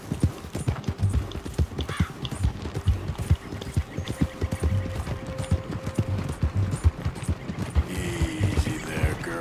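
Rhythmic horse hoofbeats clip-clop steadily throughout in Red Dead Redemption 2, close and moderately loud, with a faint mechanical clatter and a brief whinny-like tone mixed in.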